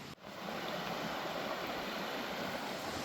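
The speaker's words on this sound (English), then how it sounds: "you can see and probably hear how powerful this river is" A powerful river near Sheffield rushes over its rocky bed, a loud, dense, unbroken roar heard up close from the riverbed after a brief cut at the start.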